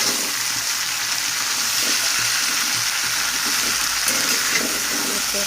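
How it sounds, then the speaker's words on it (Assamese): Cabbage fries in a pan over a high gas flame, giving a steady close hiss and sizzle with faint clinks of stirring underneath. "লৰাই এইখিনি ভাজিব লাগিব অকণমান সময়।"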